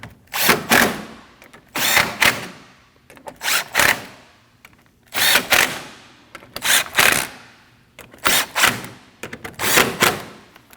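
A power tool tightens the 10mm bolts above the grille of a 2013-2019 Ford Escape during a radiator and condenser fan swap, firing about six loud, close whirring bursts separated by short pauses.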